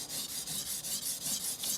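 A German steel cook's knife grinds on a Shapton Pro 320 whetstone in rapid, regular gritty strokes, close and fairly quiet, with no speech over it.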